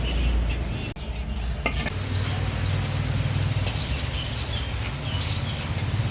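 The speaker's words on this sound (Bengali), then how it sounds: "এবার বেগুনগুলো আমি ভেজে নেব।" Salted, turmeric-coated brinjal pieces frying in oil, a steady crackling sizzle with a low hum and a couple of sharp utensil clinks early on, no speech.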